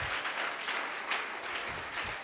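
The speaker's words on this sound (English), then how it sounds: "Now please clap for yourselves once." A workshop audience claps together at a public-speaking session, a dense, steady burst of applause lasting a couple of seconds, fairly close and even in loudness with no talk over it.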